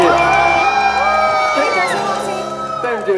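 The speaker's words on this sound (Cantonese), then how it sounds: "我哋俾啲掌聲" An outdoor harbourfront busking crowd cheers loudly, with many overlapping voices whooping and shouting close by in a sustained burst.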